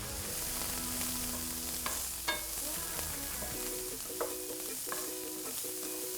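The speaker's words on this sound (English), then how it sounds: "we're just gonna give this a quick stir" Chili powder being stirred into sizzling onions and aromatics in a hot pan: a steady broadband sizzle with several sharp scraping strokes of the spoon, close and moderately loud, no voices.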